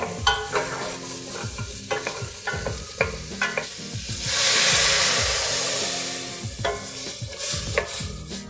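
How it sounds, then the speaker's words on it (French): Ingredients sauté in melted butter in a pan, with repeated close stirring scrapes and knocks over a frying sizzle that swells into a louder steady hiss midway before the stirring resumes. "on fait revenir"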